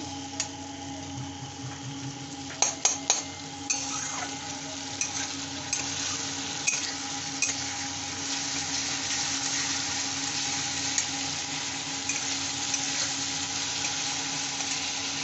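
Onions fry in oil for katla fish do pyaza, a continuous sizzle under a low hum, with a few sharp utensil clicks and scrapes near the start and a handful later.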